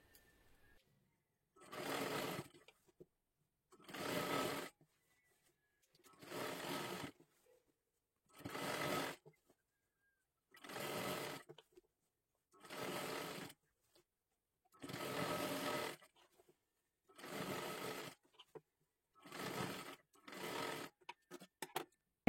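A sewing machine stitches a one-piece dress for a six- to seven-year-old girl, cut from a kathpadar saree. It runs in about ten short, even bursts with brief quiet pauses between them, close and alone.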